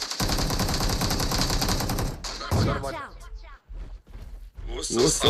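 Rapid automatic gunfire rattles loudly and continuously in a mobile shooter video game, then breaks into shorter bursts and single shots. A player talks over the gunfire.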